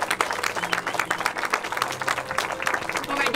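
Wedding guests applaud the newlyweds with a dense, steady burst of clapping from a nearby crowd, lasting a few seconds without letup.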